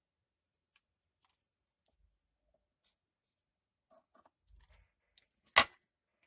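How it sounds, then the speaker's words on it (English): A few crisp snips of glue-coated scissors and paper rustles, sparse and close, with one louder sharp cut near the end amid quiet pauses. "I've got glue on my scissors so they don't cut just super well."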